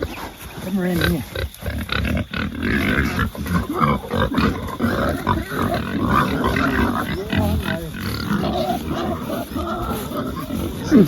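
A crowd of pasture-raised pigs grunts and squeals close by at feeding, busy and noisy, with a person talking now and then over them.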